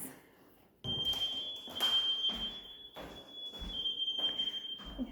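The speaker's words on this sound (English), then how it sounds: "That beeping you hear is Bill testing the fire alarms" A thin, high electronic tone from a fire alarm under test sounds continuously while footsteps and thuds move nearby, with no talking.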